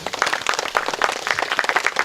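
An audience at a Korean forum gathering applauds a visiting poet in a dense, steady wash of many hands clapping, close and fairly loud, with no talk.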